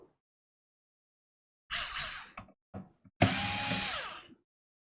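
Screws being driven out of a Nimo MME 2S mini PC with a power drill or electric screwdriver, two whirring bursts of about a second each around a short tap, close and loud in an otherwise silent room.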